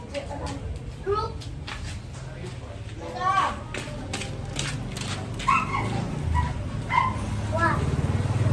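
A dog barks and yips in short bursts amid background noise, with people talking nearby.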